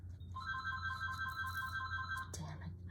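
A phone ringtone plays steadily for about two seconds, a sustained electronic melody over low room hum, then cuts off abruptly while a quiet indoor setting continues.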